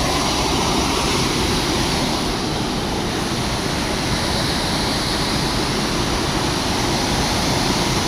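Loud, steady roar of water rushing out of Takali Dam, a dense continuous wash of noise with no breaks and no voices.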